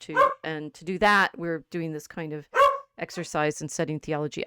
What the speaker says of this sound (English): I'm really sorry about the dog.